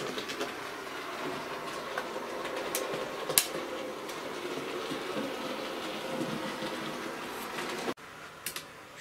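A model Class 7P6F rebuilt Battle of Britain locomotive, Royal Observer Corps, runs through a tight bend on a siding, giving a steady low rolling rumble with faint clicks and a few sharp ticks throughout.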